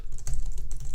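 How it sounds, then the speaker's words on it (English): Fast, close clicking of a computer keyboard as custom code is typed, a brief dense run of keystrokes with no talking. "So if we type in custom code,"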